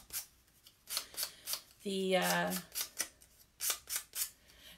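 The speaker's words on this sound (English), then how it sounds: "just trace your glass and cut out using your scissors" Scissors cutting a shape traced from a glass out of material, a series of crisp rhythmic snips close up, with a brief spoken word in the middle.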